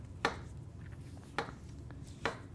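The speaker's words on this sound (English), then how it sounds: "We're cutting them into small, diced 1/4 pieces." A knife dicing bananas into small quarter-inch pieces on a board, three sharp, spaced chops over faint background noise, close and with no talking.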